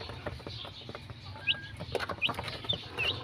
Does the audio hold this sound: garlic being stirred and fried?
no